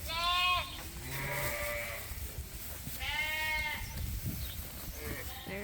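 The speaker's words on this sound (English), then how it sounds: "There's our ewe that sheds every year." Sheep bleats on a working farm in spring lambing season: a loud, near call at the start and another a few seconds later, with fainter bleats and a low murmur of flock and outdoor noise between them.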